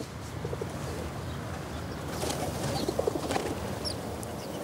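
Pigeons coo softly on an abandoned apartment balcony amid a dense, steady outdoor hum, with a few faint chirps.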